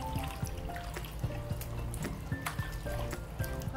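Salted yeolmu radish greens rinsed in water in a basin, giving a steady wet sloshing and trickling with repeated soft splashy pulses, close and continuous throughout.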